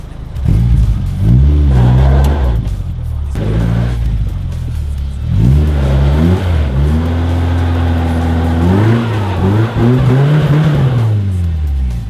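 Mini truck engine revving hard in bursts with wheelspin while bogged, rising and falling pitch sweeps repeating over several seconds, loud and close.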